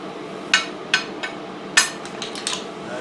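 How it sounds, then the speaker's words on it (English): Slag knocked off freshly melted aluminum from shell casings: several sharp metallic taps spaced unevenly over a few seconds, near and distinct, then a few lighter clinks, with no voices. "Get the slag off of this."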